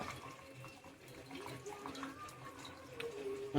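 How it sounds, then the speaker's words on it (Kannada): Cooking water is poured off boiled lentils into a sink, splashing and running, soft and fairly close, with small drips and clinks near the end. "ಬೇಳೆ ಕುದಿಸಿರ್ತೀವಲ್ಲ ಅದನ್ನು ಬಸಿಬೇಕು ಪೂರ್ತಿ ನೀರಿಲ್ದಂಗೆ"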